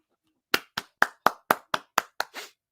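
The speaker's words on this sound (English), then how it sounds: "Round of applause." Eight crisp, evenly spaced hand claps, close and clear against silence, with a slightly softer final clap.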